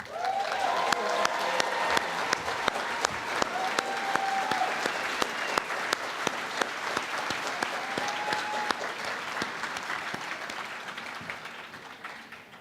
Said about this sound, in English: can we give a round of applause to the Brass Sound Quintet from Mannheim?